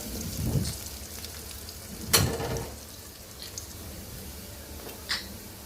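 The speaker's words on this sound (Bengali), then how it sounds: "আমি তো পেঁয়াজটা ভাজবো" Onions frying in a pan, a soft steady sizzle with a few louder spitting pops scattered across a few seconds.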